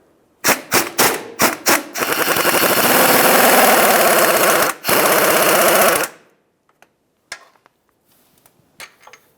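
A power tool under a 2005-2010 Dodge Dakota with a 4.7L V8 zips in short bursts, then rattles loudly and continuously while removing 15mm bolts above the differential, under the starter. It stops abruptly, followed by scattered metallic clinks.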